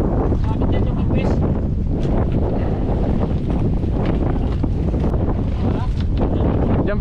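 Strong wind buffets the microphone on a fishing boat out at sea during a kingfish trip, a loud, continuous roar with water and hull noise beneath it and voices faintly mixed in.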